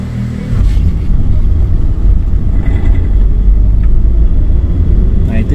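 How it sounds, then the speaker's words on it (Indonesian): A Daihatsu Sigra engine, after five years of use, runs with knocking, a loud, steady low rumble close by that carries on through the whole stretch. "Nah, itu suara dari ngelitiknya ya teman-teman, suara mesin ngelitik."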